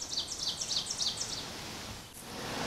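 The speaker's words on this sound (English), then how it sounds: "You can hear the birds in the background." Birds chirp in quick repeated high bursts, fairly faint, over a steady background hiss, as recorded by a Ceyomur CY65 trail camera; no one speaks.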